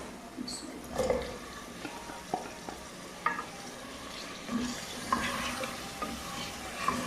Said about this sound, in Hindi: अभी मैं इसमें गोश्त डालने लगी हूँ।